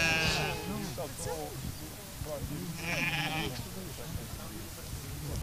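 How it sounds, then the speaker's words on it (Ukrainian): Romanov sheep bleat repeatedly on a farm in Ukraine's Prykarpattia region, several overlapping calls at moderate distance mixed with people talking. "Наразі на фермі близько ста овечок."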